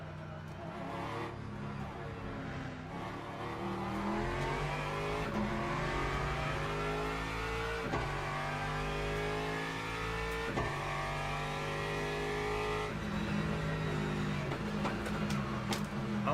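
Race car engine circling Spa in Le Mans Ultimate, held at a steady high drone with rising and falling gear-shift sweeps throughout a fuel-saving lap, loud and continuous with no talk.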